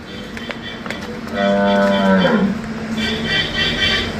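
Cattle lowing at a Punjabi dairy farm where pregnant milking cows are being sold: one long, loud, drawn-out moo rises over the farmyard din around the middle. A second, softer bovine call follows near the end.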